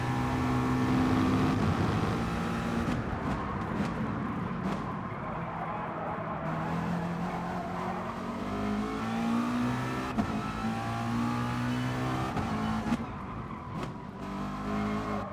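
A race car in Gran Turismo Sport howls at steady revs, then the engine note drops and climbs again as it brakes and accelerates. Tires squeal and skid underneath, and the engine noise runs loud and unbroken throughout.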